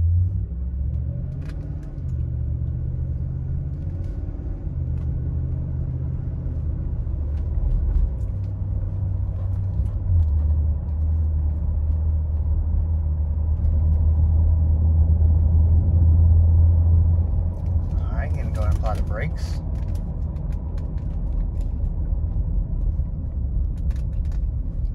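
A 2017 Ford F-150 extended cab pickup on a test drive, heard from inside as a steady low engine and road rumble throughout, swelling slightly mid-drive, with a few faint clicks and a short rattle near the end.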